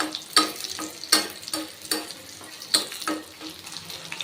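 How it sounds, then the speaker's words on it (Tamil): Garlic and onions sauté in sesame oil, a close sizzle broken by regular stirring strokes against the pan roughly every half second, with no voices. "நல்லெண்ணெய் விட்டு வதக்கிக்கோங்க."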